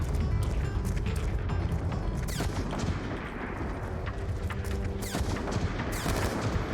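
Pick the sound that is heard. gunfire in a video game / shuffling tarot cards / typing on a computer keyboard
gunfire in a video game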